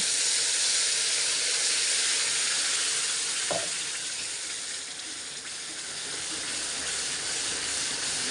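Ground moringa leaf paste with red chili, salt and optional garlic hits hot oil in a kadai, giving a steady, loud broadband sizzle throughout with a brief clunk midway and no talking.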